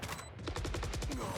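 A rapid burst of gunfire rings out in the Valorant video game during a tournament match, a dozen or so evenly spaced close shots firing in a steady automatic rhythm.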